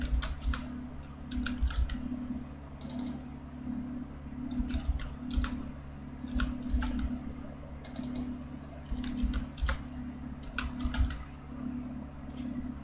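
Keys tapped on a computer keyboard while writing C++ code, irregular clusters of soft clicks over a steady electrical hum, with no talking.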